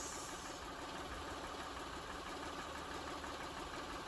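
Engine of a 2005 Honda Pilot idling after an oil change, a steady, quiet low rumble with faint hiss, continuous and unchanging throughout with no voices.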